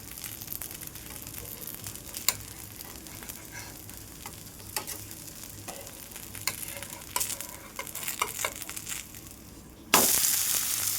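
Green moong dosa roasting on a hot pan, a low steady sizzle with scattered soft crackles and scraping ticks, quiet and close, ending in a sudden louder burst of sizzle.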